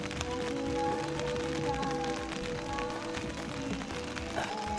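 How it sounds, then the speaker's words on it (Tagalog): Rain falls steadily at a campsite in Malitbog, Bukidnon, a constant close hiss of drops on surfaces that runs unbroken and alone for the whole span. "Naabtan og ulan"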